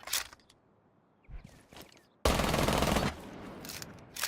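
Gunfire in the tactical shooter Rainbow Six Siege: a few scattered shots, then a loud sustained burst of automatic fire that cuts off abruptly, followed by quieter trailing noise and one more shot at the end, with no talking.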